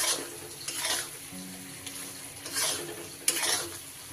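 A spoon stirs thickening sugar syrup in a pan, making soft scraping sweeps and a low bubbling simmer, with a few louder strokes that come and go over several seconds.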